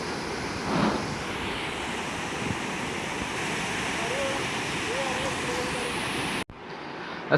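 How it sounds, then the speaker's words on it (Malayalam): A waterfall in Munnar roars at night in a steady, dense rush of falling water, continuous and fairly close, with brief muffled bumps near the end. "ആ രാത്രികാല വെള്ളച്ചാട്ടത്തിൻ്റെ ഒരു വീഡിയോ എടുത്തതാണ് അപ്പോൾ അതൊന്ന് കണ്ടു നോക്കാം"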